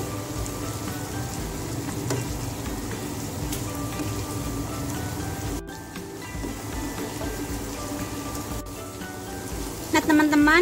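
Bean sprouts being stirred with egg and chili in a hot pan, a steady crackling sizzle with occasional scraping, while someone talks over the cooking.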